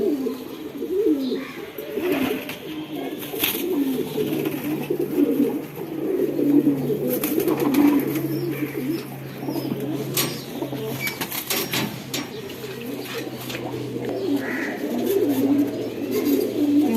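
Male racing pigeons coo in a low, continuous chorus close by, with scattered clicks and rattles from the loft throughout.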